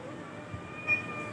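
A pet cat named Pujima gives a short, faint, drawn-out meow in a quiet room, heard alone without speech.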